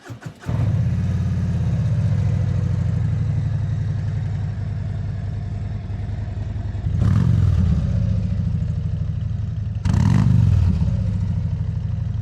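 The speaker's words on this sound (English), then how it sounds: "hear what that Cobra exhaust sounds like on here as well" A 2026 Harley-Davidson Street Glide 3 Limited trike with a Cobra exhaust idles with a deep, throaty burble, then is revved sharply twice, each blip rising loudly before settling back to idle.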